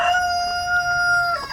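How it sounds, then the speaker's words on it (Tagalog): A Dekalb Brown chicken gives a short, clear crowing call lasting about a second and a half, close and loud, alone without talk. "yung mga manok natin"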